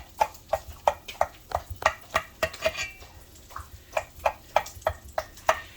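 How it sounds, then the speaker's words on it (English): Serrated knife sawing through a pan of sweet cornbread from mix, a regular run of close, crisp strokes repeating about every third of a second, each with a scraping rasp, without talk. "I'm getting ready to cut it and show it to you. Hold on. I use a serrated knife."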